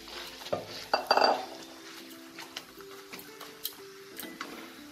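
A spoon scrapes and clinks against a pan while potato filling fries in hot oil for egg devil chops, with a few sharp metallic knocks early on and a soft sizzle underneath.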